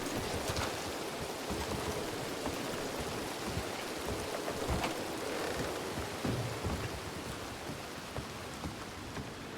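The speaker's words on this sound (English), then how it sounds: "Holy shit, that storm is loud" Heavy storm rain pours steadily in a western roleplay video game, a dense continuous hiss with low rumbling thunder rolling underneath, loud and close throughout with no voices.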